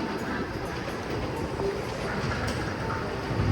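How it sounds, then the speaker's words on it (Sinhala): A train running on an elevated rail line in a Japanese town, a steady continuous rumble of wheels and carriages heard from a distance with broad street ambience and no talking. "අර උඩුන් ට්‍රේන් එකක් යනවා වෙන ලයින් එකේ ට්‍රේන් එකක්"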